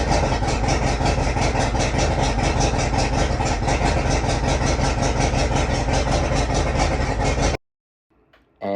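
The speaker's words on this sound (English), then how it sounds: "It's not sounding like it's firing on all cylinders." An outboard boat motor that has had a spark fault runs rough and misfires, a loud steady uneven chugging for about seven and a half seconds before it cuts out abruptly into near silence.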